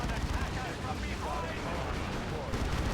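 Lascannon fire in the strategy game Dawn of War 2: Retribution, during a 1v1 match with a Dreadnought, heard as dense, continuous booming blasts and rumbling impacts that stay loud throughout, mixed with other battle noise.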